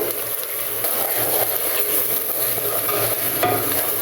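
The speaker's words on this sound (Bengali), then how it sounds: "টমেটো সস ভালো করে নেড়ে নেব" A spoon stirs tomato sauce into hot oil, onion and Maggi seasoning in a pan while cooking chicken kabsa, giving a steady close scraping and soft sizzle with a few sharper clicks, and no voices.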